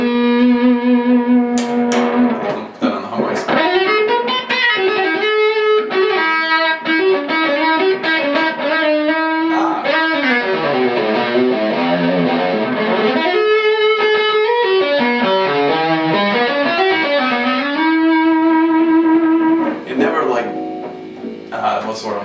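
A Forshage Ergo Klein headless archtop guitar played through a cranked, high-gain amp, loud distorted sustained notes and fluid legato runs with bends and vibrato, heard alone without talk.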